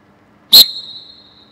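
A person gives one sharp, loud, high whistle blast, likely as a start signal for timing a retake, with a thin tone briefly ringing on after it in an otherwise quiet space.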